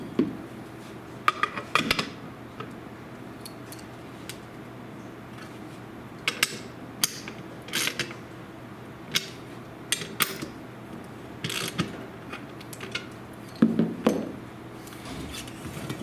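Metallic clicks and clanks from a ratchet wrench tensioning a Newman roller screen-printing frame, coming in sparse short bursts of a few clicks each, close and fairly quiet, with no talking.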